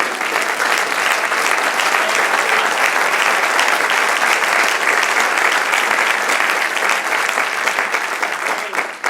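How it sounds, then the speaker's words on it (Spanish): A Spanish-speaking church congregation breaks into loud, dense applause during a sermon, sustained and even for several seconds before tapering slightly at the end. "Con un aplauso al Señor."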